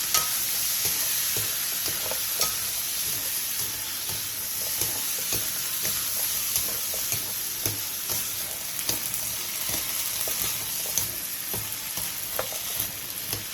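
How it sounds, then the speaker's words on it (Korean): Meat with vegetables and salt stir-fries in a pan, giving a steady sizzle and crackle with occasional scraping stir strokes, loud and continuous without any voices. "고기의 겉면이 어느 정도 익으면 가지를 제외한 재료와 소금 2분의 1티스푼을 넣고 3분 정도 더 볶아주세요."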